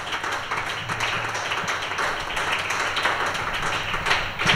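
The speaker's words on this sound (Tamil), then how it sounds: "இன்றையிலிருந்து விசேஷமாய் கையை தட்டலாம்." A church congregation claps together in a dense, continuous wash of hand claps, loud and even throughout with no pauses.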